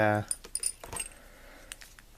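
A small bunch of lock keys jingles briefly at the start, with light metallic clinks and rattles following, close and fairly quiet, and no one talking.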